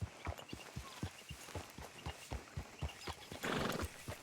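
A horse in the video game Red Dead Redemption 2 clip-clops at a steady walking pace, hooves thudding close and clear, then gives a short whinny near the end, with no talk.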